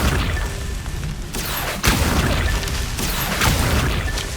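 A spell being cast in the wizarding video game Hogwarts Legacy, heard as a sudden loud magical burst with a whooshing crack, followed by rumbling effects and ambient game sound throughout.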